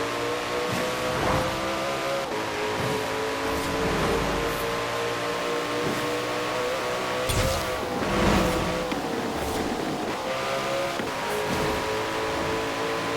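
Koenigsegg Jesko hypercar engine in Forza Horizon 4, a steady loud high-revving drone with harmonic whine that surges and shifts as it accelerates at speed on a winter road, heard alone without talk.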